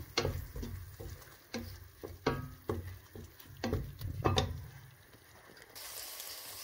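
Coriander powder being stirred into seekh kebab masala in a pan: faint scattered scrapes and taps of a spoon against the pan over a soft background hiss, irregular and close.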